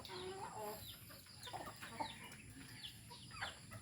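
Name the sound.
chickens clucking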